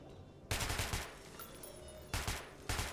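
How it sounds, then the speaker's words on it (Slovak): Gunfire at a shooting range in the video game Metro 2033 Redux, a few quick bursts of rapid shots separated by a longer pause, punchy but at moderate volume over a low game background. "Ó, aha, môžem tu strieľať"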